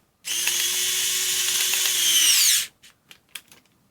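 A TONE hybrid electric USB-charged screwdriver (CHD221S) whines steadily under load against a torque meter for about two seconds, its pitch sagging slightly as it stalls, then stops, followed by a few small clicks and taps.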